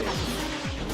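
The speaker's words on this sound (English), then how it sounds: "I keep hitting the left side of my car!" A car crashing into something in a realistic driving video game, a single loud smashing impact with a whooshing sweep over steady engine and game noise.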